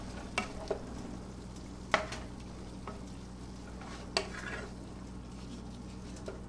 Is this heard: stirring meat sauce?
yes